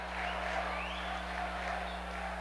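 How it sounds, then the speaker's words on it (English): Home crowd noise at a 2002 Division III men's basketball second-round game between UW-Stevens Point and Washington University, a steady dense roar of cheering and applause swelling in the arena with no break. "Bears crowd coming alive"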